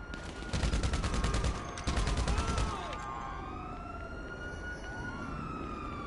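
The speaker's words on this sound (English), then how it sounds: "Yo, who's shooting at me?" Rapid automatic gunfire in GTA Online free-roam combat crackles in two loud bursts over the first few seconds, mixed with siren-like wailing tones, then fades to a quieter game ambience with sweeping synthetic whines.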